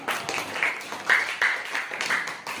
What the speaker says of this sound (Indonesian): Berikan kita tepuk tangan dulu untuk yang mau jadi pengusaha